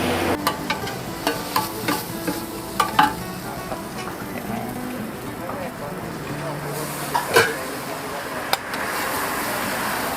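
Pad thai stir-fried in a pan with a wooden spatula at a Thai street stall, continuous loud sizzling broken by scraping and clacking strokes, with people talking over it.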